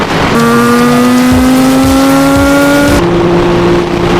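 An Aprilia Tuono 660 motorcycle engine revs hard and continuously, its pitch climbing steadily before dropping to a lower steady drone, loud and close with no talking.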